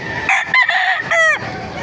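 A Tasmanian rooster crows loudly and close by at a chicken market, one strained, rising-and-falling call, with no talking.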